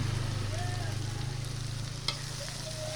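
Small bean sprouts sizzle and fry in a pan with steady crackling, a soft stir and a light clink, close and continuous.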